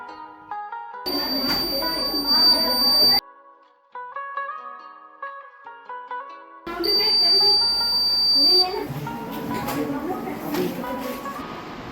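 A student-made house bell circuit, built from a cell, wires and an electric buzzer, gives two loud, shrill buzzes of about two seconds each, separated by a short gap filled with quieter sounds.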